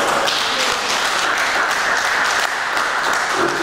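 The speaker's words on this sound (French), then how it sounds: "Le docteur Armand Lotin, qu'on applaudit très fort." Loud, sustained audience applause at the opening of the Komane festival in 2015, a dense wash of many hands clapping close up without a break.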